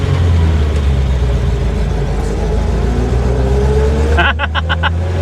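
A 1953 Pontiac Chieftain Straight 8 drives with a steady loud engine drone and road rumble, then a gear shift near the end brings a brief dip and a few mechanical clunks.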